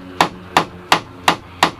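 Five evenly spaced, sharp hammer blows drive a piece home while steam bending Sapele mahogany during a wooden boat restoration, each strike close and loud with a short ringing tail and quiet between.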